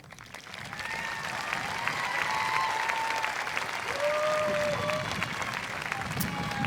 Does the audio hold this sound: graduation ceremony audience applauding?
yes